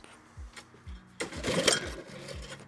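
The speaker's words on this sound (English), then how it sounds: "forward to getting the cylinder mower out" An old cylinder lawn mower is pull-started, giving a few sputtering low chugs and cranking pulses, then a brief louder burst of rattling as the engine catches momentarily before fading back to uneven putters.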